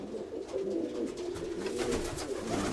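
Pigeons coo steadily inside a dovecote, with several birds' low, throaty calls overlapping close by and no one speaking.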